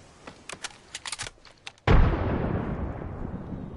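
A frag grenade detonates in an early-morning shooter video game, a sudden loud blast that rolls into a long fading rumble after several scattered small pops and clicks.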